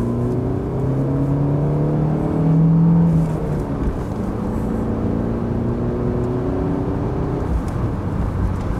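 A 1991 Mercedes 190E 2.3 W201 accelerates out of town onto a country road, its four-cylinder engine rising steadily in pitch from inside the cabin, loud and continuous with no talk.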